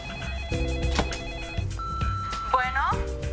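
A telephone rings in a rapid electronic bell pattern of repeated bursts, fairly loud and close, running under background music throughout with no voices.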